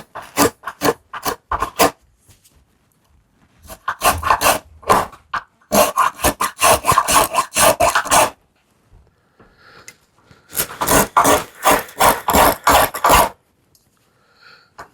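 Repeated rasping strokes of a spokeshave taking light passes to taper a wooden spindle, close and fairly loud, arriving in quick bursts of several strokes separated by short pauses.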